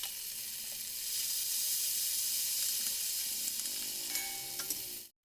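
Homemade ginger, garlic, chili and cumin paste sizzles in a pan, a steady close hiss of frying with faint stirring scrapes, ending abruptly.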